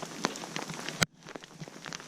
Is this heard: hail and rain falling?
yes